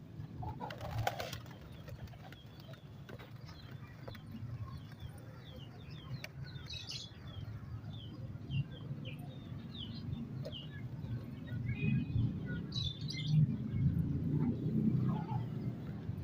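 Pigeons released from a net coo softly over a steady low rumble outdoors, with faint scattered bird calls and occasional flutters; no talking.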